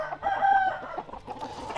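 A rooster crows at a Thai fighting-cock farm, a single loud, close call with a rising and falling cry followed by a short trailing tail.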